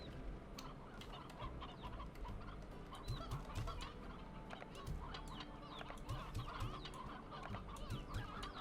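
Chickens clucking in the video game Slime Rancher, a steady scatter of short clucks and squawks over busy game background sound, with no talking.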